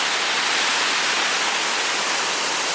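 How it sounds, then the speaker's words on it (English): Waterfalls at Ricketts Glen State Park, Pennsylvania, heard from close range: a loud, steady, broadband rush of falling water that fills the whole short stretch with no breaks. "look at how close you can get to these waterfalls"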